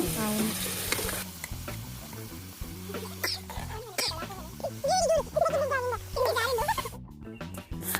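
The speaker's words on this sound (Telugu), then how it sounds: "ముందుగా ఉడికించుకున్న ముక్కలు పనసకాయ ముక్కలు అవి వేసేసుకొని బాగా ఫ్రై చేసుకోవాలి" Boiled jackfruit pieces frying in a pan, a steady sizzle with stirring scrapes, accompanied throughout by a voice and other background noises.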